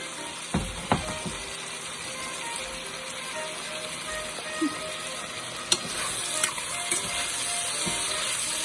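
Peppers go into a pot of coconut curry spinach soup and get stirred in, giving a soft, steady sizzle with occasional scraping clinks of the spoon against the pot.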